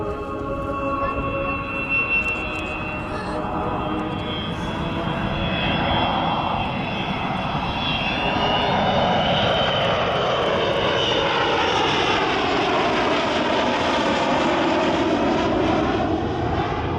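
Avro Vulcan XH558 jet bomber passing over at the Southport Airshow, a loud continuous jet roar whose tone sweeps and shifts as it flies by, with no voices over it.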